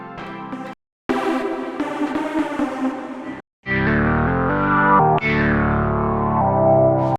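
The Absynth 6 software synthesizer plays a huge, bright lead patch in short loud phrases, broken by brief silent gaps. Later notes glide and sweep with bright, shimmering tones under effects that add wash and echo, with no speech.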